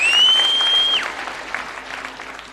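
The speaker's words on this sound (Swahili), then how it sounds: "Pigieni Churchill makofi." A church congregation applauds for a Churchill Show performer, a steady wash of many hands clapping under a fading high tone, then thinning to scattered claps toward the end.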